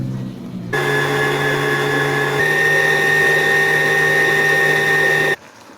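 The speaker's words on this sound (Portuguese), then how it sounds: "É só colocar ele bem gelado na batedeira e bater vagarosamente até ficar bem lisinho, firme, mas liso" A stand mixer slowly whips chilled cream into a smooth, firm cake topping. Its steady motor hum starts abruptly, holds an even, loud pitch with a slight shift midway, and then cuts off, with no talk.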